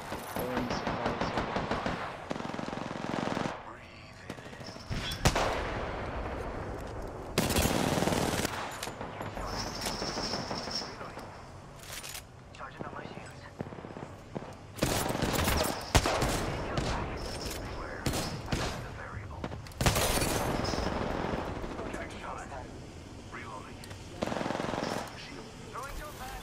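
Rapid bursts of automatic gunfire in an Apex Legends trios match, loud and repeated in clusters with sharp single shots between them, alongside players talking.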